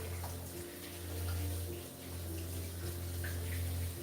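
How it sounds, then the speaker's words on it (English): A kitchen tap runs steadily while something is rinsed during home cake baking. The flow makes a continuous moderate hiss and gurgle, with a faint background hum and no talk. "just rinse this really quick"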